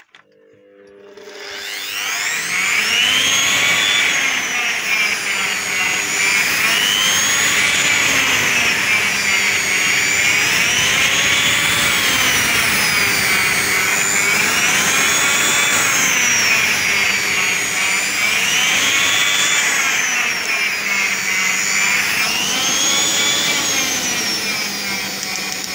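The motor of a Silvercrest 550 A1 food processor spins up after a click and runs loudly and steadily, its whining hum swelling and dipping in a slow repeating wobble for about twenty seconds with no talk over it.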